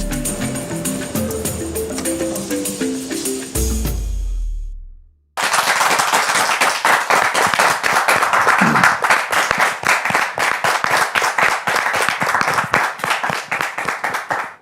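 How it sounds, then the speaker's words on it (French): A television studio audience breaks into loud, sustained applause right after a musical sting ends and a short pause passes, with sharp individual claps close by over the full crowd. "Les applaudissements nourris de ce public témoignent que vous êtes bien à Point d'accord."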